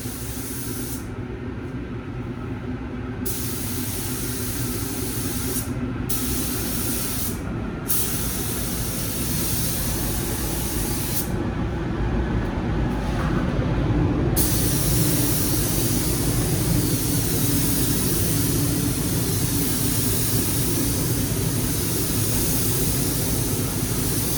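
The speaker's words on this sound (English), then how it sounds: "So straight on with drop coat number 2." A spray gun laying a light drop coat of paint on a BMW M3, a loud steady hiss of air and atomised paint that runs unbroken, with brief hollow gaps in the upper hiss early on.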